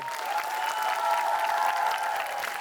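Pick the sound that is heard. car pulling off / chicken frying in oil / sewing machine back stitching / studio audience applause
studio audience applause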